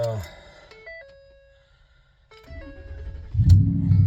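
A truck nicknamed Clifford has its engine started: a few chiming tones sound, a short quiet follows, then cranking, and the engine catches with a loud, deep rumbling rev.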